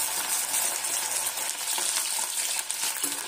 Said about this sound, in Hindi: तेल में फ्राई करेंगे।